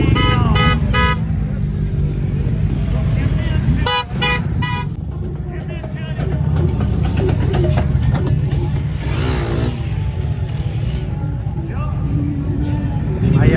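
A group of riders heads to a bike week event in Panchgani, with constant close engine drone, repeated horn toots and passing vehicles under ongoing talk.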